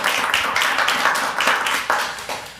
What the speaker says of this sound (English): You could clap again now.